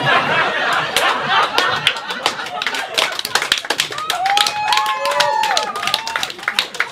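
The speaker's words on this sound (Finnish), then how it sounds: "Ja taputtakaa vaan" Audience at a Finnish stand-up comedy show in Kallio claps in a dense burst of sharp, steady hand claps lasting several seconds, with scattered chuckles and a voice speaking over the applause.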